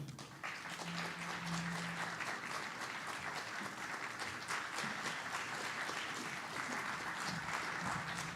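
A conference audience gives warm, sustained applause welcoming a speaker to a featured session on Japanese Baptist hymns and worship, steady clapping filling the hall throughout.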